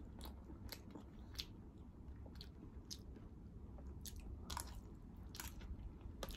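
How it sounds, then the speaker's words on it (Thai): Close, wet chewing and biting on braised pig ear with crunchy cartilage, served with rice, a steady moist squishing with sharp crunchy clicks scattered throughout and no talking. "หูหมูมันสิกรุบๆได้ล่ะมันสิกรุบๆมันมีกระดูกหมู"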